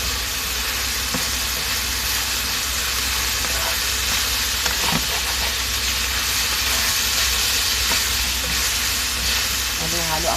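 Beef with bitter gourd and bamboo shoots, dressed with sesame oil, being stirred in a pan: a steady, loud frying sizzle and hiss with faint scraping throughout.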